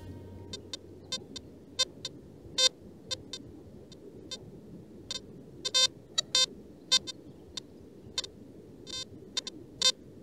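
Sharp, short electronic beeps from an XP Deus 2 metal detector sweeping over mineralized ground ring out in irregular bursts, some doubled, above a faint low background rumble, with no speech.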